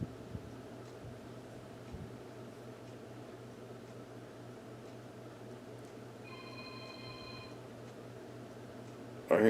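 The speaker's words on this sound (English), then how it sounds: "I hear Julie Daughter's phone ringing" A phone rings faintly in another room, a single brief electronic ring that stands out over a steady low indoor hum.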